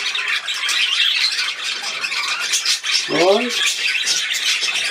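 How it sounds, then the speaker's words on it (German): A seagull gives a short squawking call near the end, rising over steady outdoor hiss and broadband background noise, while someone briefly speaks before it. "Wer ist noch da? Die Möwe?"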